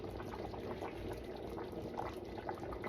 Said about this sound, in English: so I'm gonna add my freshly squeezed coconut milk